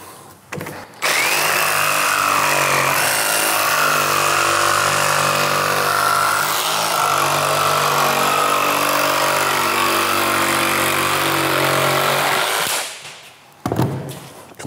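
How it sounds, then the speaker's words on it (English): A jigsaw cuts through vinyl plank flooring, running as one loud, continuous rasping buzz for about twelve seconds, with quieter handling before and after. "But it cuts really nice with the jigsaw."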